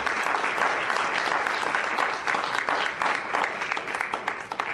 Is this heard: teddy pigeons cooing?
no